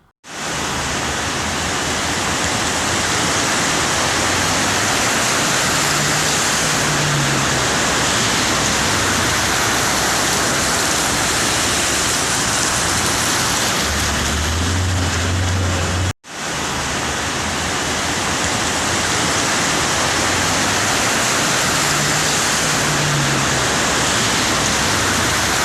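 Rushing water on flooded Bengaluru roads around Malleshwaram, a steady, dense, loud hiss that runs unbroken apart from a sudden brief cut partway through, with no voices.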